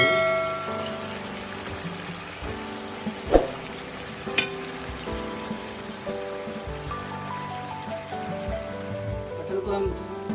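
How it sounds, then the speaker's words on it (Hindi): Parwal dolma, pointed gourds stuffed with prawn and coated in masala, fry slowly in a pan with a constant soft sizzle, broken by a couple of sharp spatula or pan clinks. "स्लो करके हम करीब 4 से 5 मिनट तक पकाएंगे, क्योंकि हमारा जो पटल है उसके अंदर मसाला अच्छी तरीके से अंदर चला जाए"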